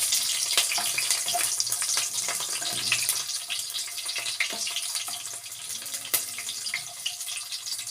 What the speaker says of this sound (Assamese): পিঁয়াজখিনি মই অকণমান ৰঙচুৱাকৈ ভাজি ল'ম।